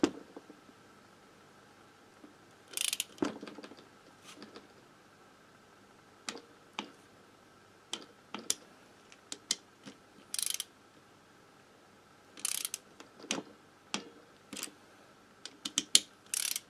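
A ratchet wrench tightening a motorcycle intake pipe, heard as short, close, separate bursts of clicking with pauses between them and no talk.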